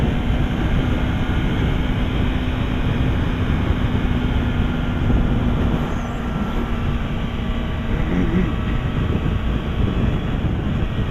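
A 2015 Yamaha R3 motorcycle cruises in sixth gear at highway speed, with a steady, loud engine drone and heavy wind rush holding constant throughout, no pauses or shifts.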